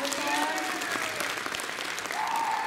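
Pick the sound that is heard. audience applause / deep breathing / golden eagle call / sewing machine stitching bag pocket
audience applause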